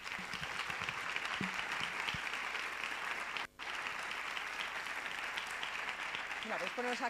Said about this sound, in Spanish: Os pido un aplauso y agradecer que estéis aquí esta tarde con nosotros.